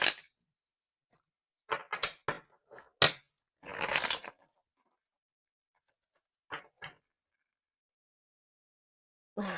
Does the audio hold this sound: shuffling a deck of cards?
yes